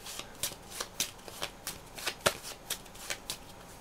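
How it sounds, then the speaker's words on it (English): Playing cards for a board game being shuffled by hand, a rapid series of crisp riffling bursts repeated at a steady rhythm, close and clear. "Just shuffle up your cards here"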